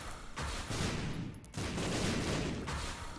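Waves of bombs explode in The Binding of Isaac: Afterbirth+ in a loud, dense run of overlapping blasts and crackling booms, broken by a short dip partway through, with no speech.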